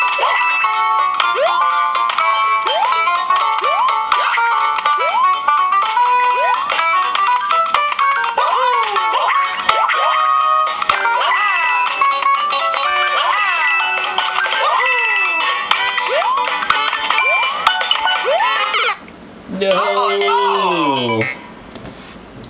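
Super Mario Run gameplay on an LG Nexus 5X phone: a loud, steady stream of bright chiming music with quick rising jump blips and coin dings, briefly cut near the end by a descending tone sequence.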